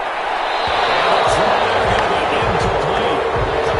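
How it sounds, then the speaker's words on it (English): A broad, steady wash of crowd applause and cheering in a football video game on PS4 fills the whole stretch, loud and continuous, with a commentator's voice talking over it. "Some applause for the defense there."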